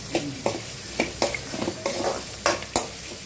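Onions with a little salt fry in a pan for atukula upma, a low sizzle broken by sharp, regular scrapes and taps of a spoon stirring against the pan.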